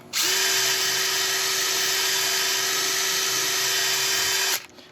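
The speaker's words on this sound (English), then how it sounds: "I'm just going to quickly run a small drill down here" A small power drill bores into wood at a steady high pitch for several seconds, close and loud, then spins down and stops.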